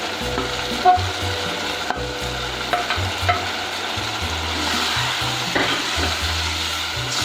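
Sliced capsicum cooking in a pan for chicken macaroni, a continuous close sizzle broken by occasional spoon scrapes and knocks, with a low hum underneath and no speech.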